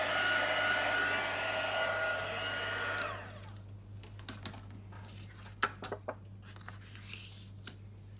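A heat tool blows hot air onto the back of a warped card as a steady whooshing hiss, then cuts off, leaving faint scattered clicks and taps.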